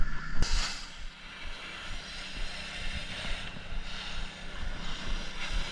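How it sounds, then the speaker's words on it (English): A pressure washer with its pressure turned up power-rinses the siding of a small house in fall, giving a steady broad hiss of water spray that surges and fades as the wand sweeps, with wind buffeting the microphone. "Now we can power rinse."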